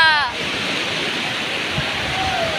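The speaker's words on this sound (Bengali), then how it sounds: "কত ঢেউ আসছে দেখো" Sea waves at Digha beach give a steady broadband roar of surf, with a brief voice-like tone at the start and another near the end.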